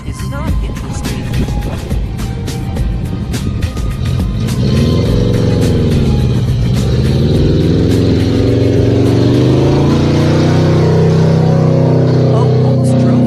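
A car engine accelerates hard while driving off-road through mud, a loud, steady roar that rises in pitch and revs up, close and sustained throughout.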